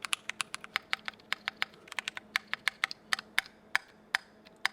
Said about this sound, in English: The shift key definitely sounds different